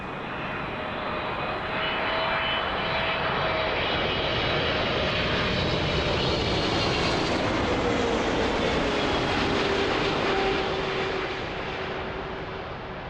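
Boeing 777-200 jet airliner passing overhead at Toronto Pearson airport, a loud sustained engine roar that swells and then slowly fades, with a whining engine tone sliding downward as it goes by.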